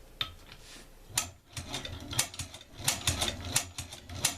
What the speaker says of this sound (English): you rotate your sewing head, and now you'll be sewing in that direction